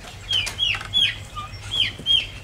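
Hens cluck in repeated short bursts at a chicken house as they settle in to roost, close and fairly clear over a low steady hum, with no talking.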